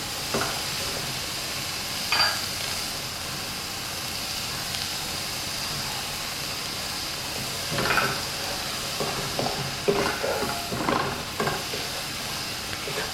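Chopped carrots and beans stir-fried in a pan with a steady hiss of sizzling, broken by occasional scrapes and tosses of a spatula, with no talk.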